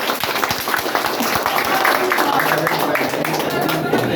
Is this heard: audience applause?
yes